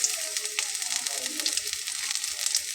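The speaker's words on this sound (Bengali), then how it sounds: "তেলটা একটু গরম হয়ে আসলে আমি সেটাতে ছোট্ট একটা পেঁয়াজ দিব।" A small onion sizzles in hot mustard oil in a pan, a soft crackling hiss with faint pops, close but fairly quiet, without talk.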